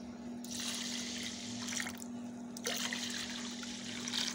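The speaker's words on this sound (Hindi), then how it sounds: "इसमें मैं 1 लीटर दूध डालूँगी" Milk being poured from a litre container into a pot of washed rice on a stove, a steady quiet trickle in two bursts separated by a short pause, close and alone.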